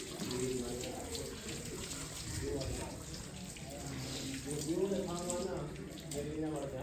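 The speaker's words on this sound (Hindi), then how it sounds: "फिर इसको पानी लगाना लाजमी होता है ताकि ये जो है ना सीमेंट अच्छी खासी चिपक जाए" Water is splashed and poured onto freshly laid cement in a village setting, running steadily throughout while people talk over it.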